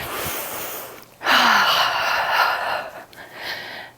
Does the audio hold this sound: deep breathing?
yes